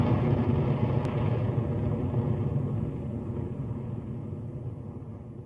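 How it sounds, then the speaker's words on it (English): Rocket Lab Electron rocket lifting off from Launch Complex 1 on the Mahia Peninsula, New Zealand: a continuous, heavy low rumble and roar that fades slightly as it climbs away, with no voices. "Electron has lifted off from Launch Complex 1, cleared the pad and is now travelling at over 800 kilometres per hour"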